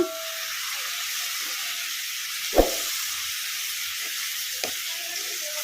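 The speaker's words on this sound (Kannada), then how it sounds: "ಇದನ್ನು ಮೀಡಿಯಮ್ ಫ್ಲೇಮಲ್ಲೇ ಫ್ರೈ ಮಾಡ್ಕೊಂಬಿಡೋಣ." Chopped spinach frying on a medium flame for palak sambar, with a steady close hiss and sizzle and a couple of soft stirring knocks.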